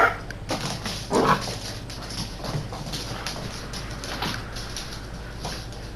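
Several dogs bark in sharp bursts close by, with one loud cluster early on and scattered yelps and whimpers over a steady indoor hum.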